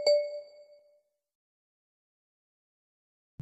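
A single bright notification bell ding rings out clearly, its metallic tone decaying over about a second into silence.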